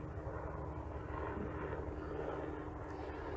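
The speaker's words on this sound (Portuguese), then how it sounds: "agora resolveu o helicóptero vir pousar aqui onde eu tô" A helicopter lands nearby, its engine and rotor making a steady, loud, low droning roar with a dense rumble that holds unbroken throughout, with no talking over it.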